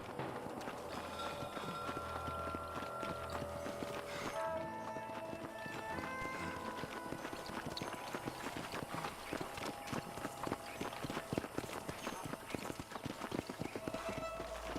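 Horse hooves clip-clop rapidly in the Western video game Red Dead Redemption, a steady galloping rhythm mixed with game music and ambient sound throughout.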